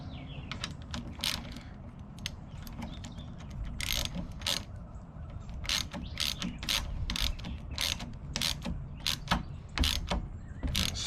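A ratchet tightens a 10 mm bolt and nut on a VW Bus sliding door, giving a long run of quick, close metallic clicks in uneven bursts over a low mechanical rumble.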